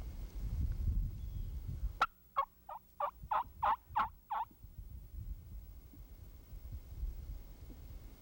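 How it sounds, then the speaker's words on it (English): A wild turkey gobbles once during a spring turkey hunt, a rapid run of about seven throaty pulses rising and falling, fairly close against a quiet outdoor background. "Listen to Steve soft call this bird right to their position"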